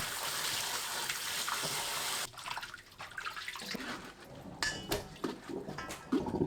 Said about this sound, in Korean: 물에 한두 번 헹굽니다.